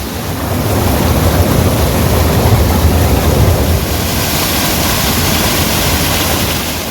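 A waterfall in Wayanad pours down as a natural shower, making a loud, close, continuous rushing roar of falling water with no pauses and no voices.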